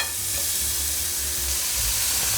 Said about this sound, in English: now we're gonna go in with our onions